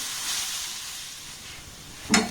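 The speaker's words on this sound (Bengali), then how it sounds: "আবারও সমস্ত উপকরণ ঢাকা দিয়ে দিয়ে খুব সুন্দর করে আমি ভেজে নেব এখানে কিন্তু জলের ব্যবহার করা যাবে না" Cauliflower vegetable filling frying dry in a pan, a soft steady sizzle and hiss ending in a brief scraping clatter, close and alone.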